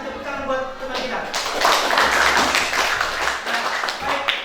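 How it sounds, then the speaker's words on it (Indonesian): Classroom applause for a classmate: a burst of many hands clapping close by, rising after a teacher speaks and continuing steadily for a few seconds with some voices mixed in. "tepuk tangan buat teman kita"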